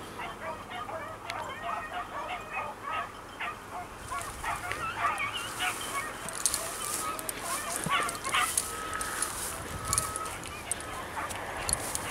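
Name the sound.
dog barking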